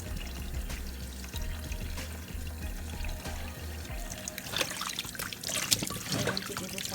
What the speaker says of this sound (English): throw off the water and continue washing it